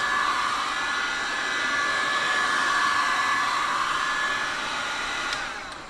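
A spray gun hisses steadily close by as it applies lacquer to a boat, a continuous airy spray that tails off at the end.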